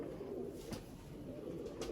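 A Chandakhani pigeon coos at a pigeon loft in Jammu, a faint, low, soft coo over a steady background hum.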